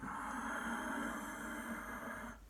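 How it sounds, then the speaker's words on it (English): Ujjayi breathing through a narrowed throat, one long, soft, steady hissing breath that fades at the end, faint and close with no talking. "as you do ujjayi breath, it'll sound like this."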